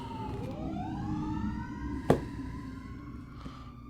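An emergency vehicle siren wails outside, its rising and falling tone sweeping clearly above a steady background rumble, with a brief sharp knock partway through.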